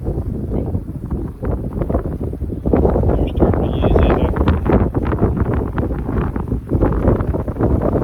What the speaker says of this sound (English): it's supposed to be this windy today